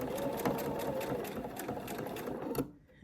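A sewing machine stitches curved quilt pieces joined without pins, running in a close, steady whirring burst for about two and a half seconds before stopping abruptly.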